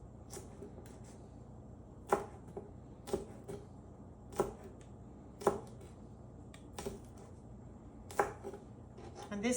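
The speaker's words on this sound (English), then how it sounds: "I'm going to use my chef's knife. I'm going to go ahead and cut my onion." A chef's knife chops green onion on a prep board in a series of crisp, close, irregular thuds and clicks, spaced about a second apart over quiet background hiss.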